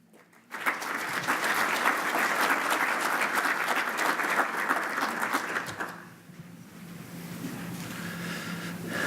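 Audience applause welcoming a speaker at a commercial real estate economics talk in Portland, steady dense clapping from a seated crowd that starts abruptly, holds for about five seconds and then fades into room noise.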